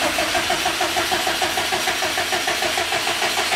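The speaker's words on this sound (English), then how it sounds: "We're gonna run the crank right now, see how it goes." A Subaru STI engine, freshly swapped into a GC8 chassis, runs with a steady loud mechanical drone and rhythmic pulsing close by, no talking over it.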